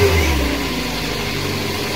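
A car engine runs at a steady idle during a fuel pressure check, a close, continuous low hum with a slightly heavier start that quickly evens out.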